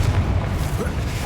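A deep, rumbling blast from the Confringo explosion spell in the video game Hogwarts Legacy, loud and dense with booming low end for about a second.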